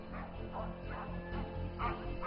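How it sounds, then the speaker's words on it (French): Many dogs barking and yipping together on a TV studio set, a busy overlapping chorus of barks and whimpers, fairly faint, with no talking. "Il y a 15 chiens qui aboient sur le plateau"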